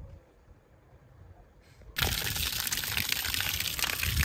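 Water is poured into a septic tank during installation. After two quiet seconds a loud, steady gushing pour starts abruptly and continues to the end.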